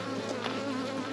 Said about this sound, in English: gotta move the bees